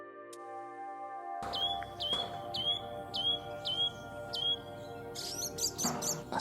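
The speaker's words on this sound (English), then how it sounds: "I still can't get my head around how active the birds are" Birds chirp and sing outdoors at Point Wells, New Zealand, with a series of repeated bright chirps and a busier burst of song near the end.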